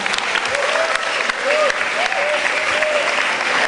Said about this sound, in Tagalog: Pumalakpak tayo ng malakas para sa ating mga sarili at sa isang magandang kinabukasang naghihintay para sa atin